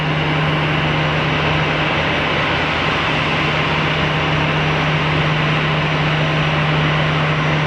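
A jet roars at Geneva Airport as it begins its takeoff roll, a constant broad, loud engine rumble with a steady low hum running throughout.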